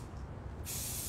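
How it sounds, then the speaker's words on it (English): A can of spray paint lets out a short, steady hiss that starts abruptly partway in and holds close and fairly quiet to the end, with no talking over it. "it's just a wide little spray, so you can't really get any details"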